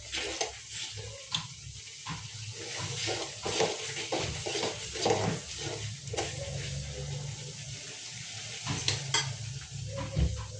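Eggplant curry bubbles and sizzles softly in a pan as the oil separates, with occasional clinks and stirring sounds scattered throughout; no one speaks.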